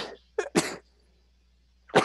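A person sneezes in a short burst of sharp, breathy bursts, a quick double inhale-and-release followed after a pause by another brief breathy burst, close and alone.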